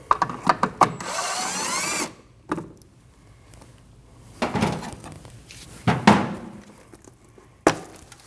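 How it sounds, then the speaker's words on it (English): Underneath a 2013–2019 Ford Escape, a power tool whirs in a short burst to back out a 10mm bolt, followed by scattered metallic clanks and knocks as the shield and the loosened parts are handled. "All you want to do is just pry down on that shield and remove your 10mm bolt."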